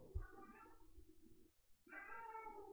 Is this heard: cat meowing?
yes